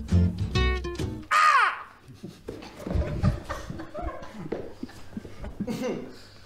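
A voice imitates a crow's caw with one loud, drawn-out harsh call amid talking and laughter, followed by more chatter.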